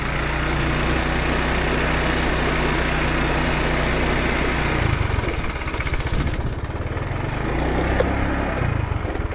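A parked motorcycle's engine idles steadily close by, a continuous low mechanical hum that shifts slightly in pitch near the end, with no talking over it.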